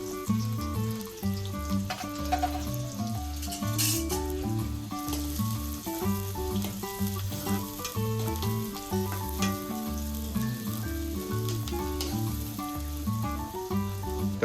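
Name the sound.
onion sautéing in hot oil in a pan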